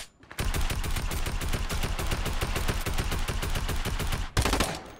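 Rapid automatic gunfire in the game Fortnite, a dense, steady burst of shots lasting several seconds, loud and close, briefly pausing before firing resumes, no speech.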